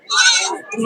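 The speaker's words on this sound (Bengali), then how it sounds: "এই যে ছোট ছোট ছাগল আছে প্রচুর" A young goat bleats once at a village livestock market, a high wavering cry close by, lasting under a second.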